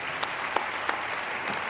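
An audience at a drug legalization debate applauds with an even, moderate wash of clapping, a few sharper individual claps standing out, heard from some distance.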